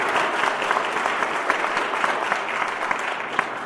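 Audience at a Hamilton County political candidacy announcement applauding, a steady burst of dense clapping from a crowd, close and even for a few seconds.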